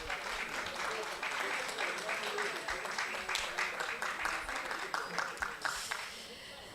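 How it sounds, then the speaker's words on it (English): Audience clapping at an international symposium on women and democracy in Dakar, a sustained round of applause with distinct individual claps, tapering near the end, with speech over it. "Est-ce qu'on peut l'applaudir, s'il vous plaît?"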